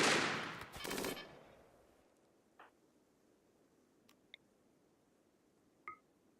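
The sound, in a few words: gunfire in RimWorld video game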